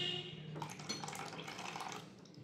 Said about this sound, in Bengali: ভিনিগারটা জলটা মিক্স করে রেখে দিয়েছিলাম, দিয়ে দেবো দুধের মধ্যে